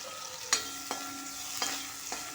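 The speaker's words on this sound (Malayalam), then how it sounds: "ഇതിൻ്റെ കൂടെ അഞ്ച് ചെറിയ പച്ചമുളക് കീറിയത് ചേർത്ത് കൊടുക്കാം ഇതും നന്നായിട്ട് വഴറ്റിയതിന് ശേഷം കറിവേപ്പില ചേർത്ത് കൊടുക്കാം" Slit green chillies and curry leaves sauté in a pan for chicken thoran, a soft steady sizzle broken by a few sharp scrapes and clinks of a spoon stirring against the pan.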